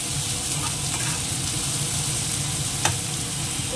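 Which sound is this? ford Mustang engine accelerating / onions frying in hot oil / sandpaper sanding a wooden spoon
onions frying in hot oil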